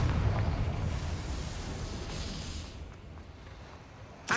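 Blast from the Confringo fire spell in the Hogwarts Legacy video game, a loud rumbling eruption that fades over several seconds before a sharp burst at the end.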